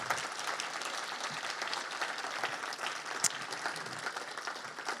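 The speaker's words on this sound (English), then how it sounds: "Give her a huge round of applause." A church congregation at a Baptism Sunday service applauds to welcome Hayley, a steady, dense wash of clapping from many hands that holds at an even level for the whole stretch.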